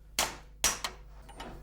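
A cart-maker's ball-peen hammer flattens rivets on an anvil while a traditional wooden cart body is built by hand: two loud, sharp metallic strikes and a lighter hit, then a few fainter taps.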